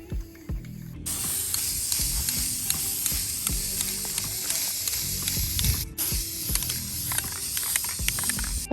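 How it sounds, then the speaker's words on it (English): A spray can hisses in long continuous bursts while paint goes onto a bathroom surface in a tiny home. The spray cuts off briefly before resuming, over faint low knocks and handling noises. "you never know what's gonna happen when you're spraying."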